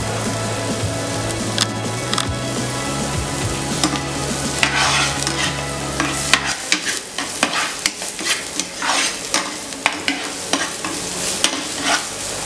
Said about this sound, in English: already added my oil and it's hot. So I'm going to start with my onions first of all